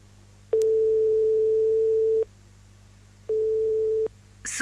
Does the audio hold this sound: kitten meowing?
no